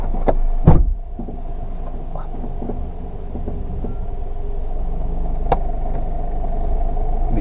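Manual-transmission car creeping off on the clutch alone without throttle, a steady low engine drone with a soft thump near the start and faint clicks, continuous and close.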